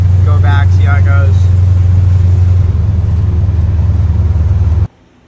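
A 1951 Chevy 3100 pickup rumbles along from inside the cab, a steady loud low engine drone that holds for several seconds before cutting off abruptly, with a brief voice early on.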